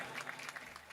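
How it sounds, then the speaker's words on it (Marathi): Faint applause from a kirtan audience, a short burst of scattered hand clapping heard from a distance. "गायनाचार्यांकरता जोरदार टाळी वाजवा दादा."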